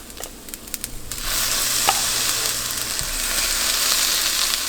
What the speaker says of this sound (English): now that the rice has had some time to stir fry, I'm going to go ahead and add my thawed shrimp